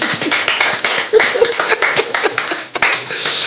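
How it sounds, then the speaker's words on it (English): An audience claps at the close of a comedy podcast show, a scattered, uneven round of hand claps with sharp individual slaps standing out, fairly close and lively before fading and swelling again. "round of applause to our beautiful audience"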